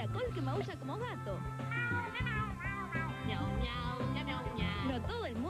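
A snail in a children's TV commercial meows like a cat, a voice imitating repeated rising and falling meows over bright background music, close and clear.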